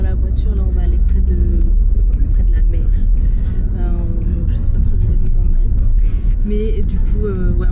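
A car driving in the evening toward the sea in Porto, heard from inside the cabin: a loud, steady low engine and road rumble runs throughout, with people talking over it.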